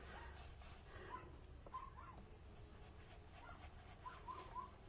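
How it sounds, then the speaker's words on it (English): A small toy cavoodle puppy barks next door, faint distant yips recurring in short clusters over a steady low background hum. "That's our little puppy dog next door. Barking, if you can hear that little bark."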